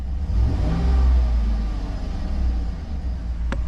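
GM LS truck engine running after an oil pressure sensor replacement, a steady low rumble with a brief rev near the start, heard close up under background noise.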